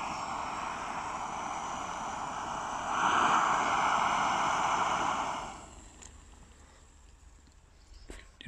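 An Oex Tacana gas camping stove burns with a steady rushing roar that swells briefly, then cuts off, leaving near-silence broken by a few small clicks and knocks.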